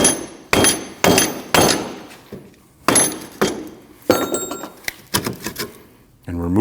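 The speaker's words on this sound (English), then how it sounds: "give it a tap on the bottom." A tool strikes the bottom of a rear brake backing plate on a 2003–2008 Subaru Forester to loosen it. Sharp metallic taps come one after another up close, followed by quicker clinks, with no talking.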